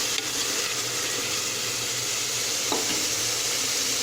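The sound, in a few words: tomatoes sautéing in a pan for crab rasam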